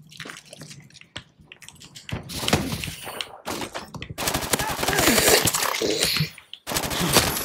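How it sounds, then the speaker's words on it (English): Bursts of rapid gunfire in Call of Duty: Advanced Warfare crackle in uneven volleys with short pauses between them, loud and close. "Another guy is shooting me."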